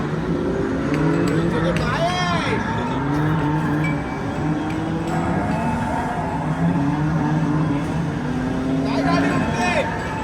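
An automatic car's engine is revved twice, its pitch sweeping up in rising whines, over a steady running drone while people talk throughout.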